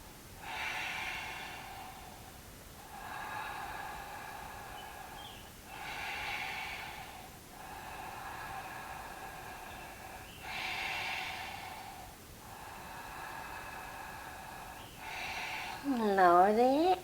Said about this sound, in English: now let's do 3 rounds of breath here.